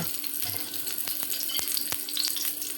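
Chopped onion hisses steadily in hot oil for a chicken feet and liver bhuna, a close, continuous sizzle with a few brief clinks and stirring scrapes over it.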